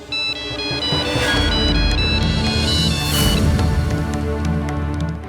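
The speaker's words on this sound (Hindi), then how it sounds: "देखो भाभी, अतुल का ही फोन आ रहा है" Mobile phone ringing with an incoming call, a loud melodic ringtone repeating its tune steadily and close by, with no voices over it.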